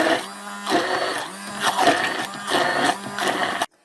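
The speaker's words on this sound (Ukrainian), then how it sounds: "Зараз я їх зіб'ю блендером." A kitchen blender whirs through peeled mandarins in several short pulses, its motor buzz starting and stopping in an uneven rhythm before cutting off abruptly.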